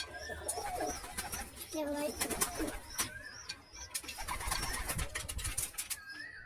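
Rampuri pigeons coo in repeated soft, low rounded calls at close range, mixed with other bird chirps and a few wing flutters, while someone speaks briefly over them.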